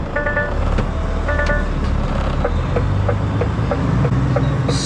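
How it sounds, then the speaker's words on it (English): A lorry on pallet network trunking work reverses into a crowded haulage yard, giving a steady loud engine drone with repeated short beeping tones near the start and a rising rumble toward the end. "We've got to reverse in from around here because the yard's too full."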